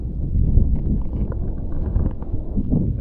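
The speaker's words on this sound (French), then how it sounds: "Petit vent frais." Wind buffets the microphone with low, uneven rumbling gusts, steady and close, with no voices, on a mountain hike to the Croix du Lautaret in the French Alps.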